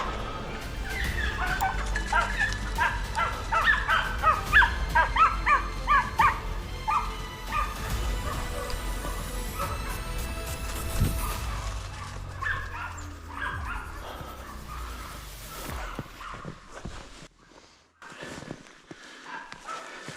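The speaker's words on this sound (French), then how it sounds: "Les chiens qui suivent juste derrière." Hunting dogs on a wild boar drive in snow give repeated yips and barks, moving about at middle distance over rustling and footsteps, with occasional brief human voices.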